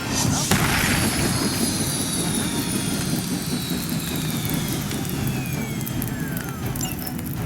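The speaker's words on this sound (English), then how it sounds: "You've grounded the helicopter." A helicopter engine in the video game Marvel's Midnight Suns gives a steady, loud, broadband roar with a whining tone that slowly falls, continuous and alone throughout.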